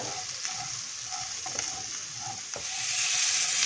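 Ivy gourd (tondli) sautéing in a pan makes a continuous bright sizzle, swelling slightly toward the end, with occasional light spatula taps and scrapes.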